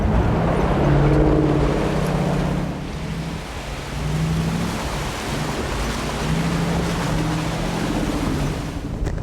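A 1955 Willys Wagon's engine drones low while water churns and sloshes loudly around it as it drives through, a steady rushing splash that eases slightly midway.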